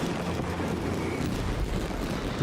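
Fireworks in a Genshin Impact video game cutscene: a dense, continuous rumble of bursts and crackle that stays steady and loud throughout, with no talking.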